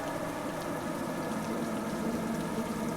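Rain falls on hundreds of tombstones in an old cemetery, a steady, even patter of drops with no break, moderately loud and unaccompanied.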